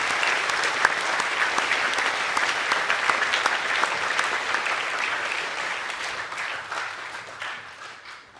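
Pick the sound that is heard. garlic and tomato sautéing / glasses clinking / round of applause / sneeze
round of applause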